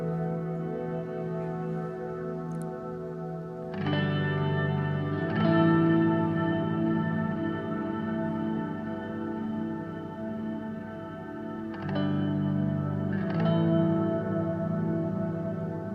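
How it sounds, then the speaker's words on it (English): Slow guitar chords in video game music swell and ring with heavy reverb, their long tails lingering and overlapping in a spacious, wet wash of sound. "A lot of reverb."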